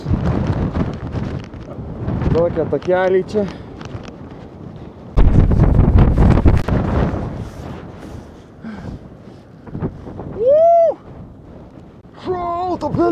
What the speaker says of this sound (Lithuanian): Bele kaip vėjuota.